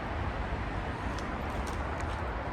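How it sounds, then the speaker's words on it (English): Steady broadband roar of distant traffic on the M62 motorway, a continuous low wash of noise with no talking. "The noise you can hear is the M62."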